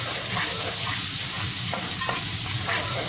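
Chopped onions frying in oil for Kabuli pulao, a steady close hiss of sizzling with occasional stirring scrapes, alone without talk.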